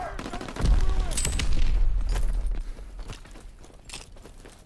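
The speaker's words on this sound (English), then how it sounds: "Suppressing fire!" Suppressing gunfire in a video game battle, a dense burst of shots and impacts swelling loudly then tapering off over a few seconds, with some shouted voices mixed in.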